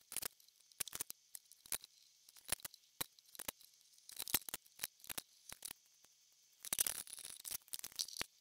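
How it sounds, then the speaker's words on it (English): Scissors cut material into strips with a string of sharp, quiet snips, some single and some in quick bursts, close by in a quiet room, with no talking. "So we'll cut this into strips and see how that works."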